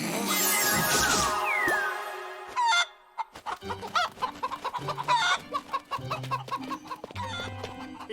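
A voice imitates a clucking chicken in a cartoon, giving a rapid run of short, choppy clucks and squawks in an irregular rhythm, close and loud, after a brief whooping vocal opening.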